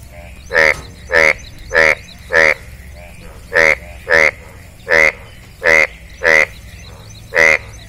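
A nearby frog gives a long run of loud, raspy croaks, about a dozen evenly spaced calls with one short pause midway, during rain.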